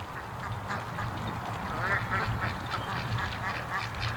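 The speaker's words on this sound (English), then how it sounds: "But here's some duck action." Ducks quack on and off against a steady, fairly loud outdoor background hum, with no talking over them.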